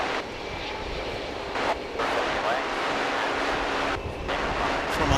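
An American Airlines Airbus A321 jet passes at DFW airport, a loud steady engine roar holding for several seconds with brief dips, wind buffeting the microphone.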